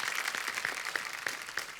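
A studio audience at a Hindi comedy talk show applauds with dense, continuous clapping at moderate volume, and a few sharper claps stand out.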